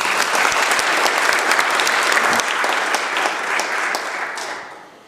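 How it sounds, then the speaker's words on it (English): Members in the British Columbia Legislature chamber give a big round of applause. Dense, steady clapping fills the room, then tapers off and fades toward the end. "Give her a big round of applause."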